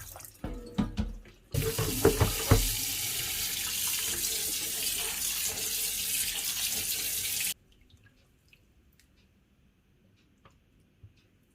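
Tap water runs loudly and steadily into a sink while brined grape leaves are rinsed, preceded by clattering handling sounds, then cuts off, leaving near silence with faint drips.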